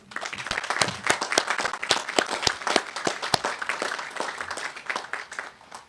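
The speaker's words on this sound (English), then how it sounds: "Can I get a round of applause for our faculty?" A graduation audience at a high school commencement ceremony claps for the faculty, sparse, distinct individual claps in an irregular rhythm that are moderately loud and close.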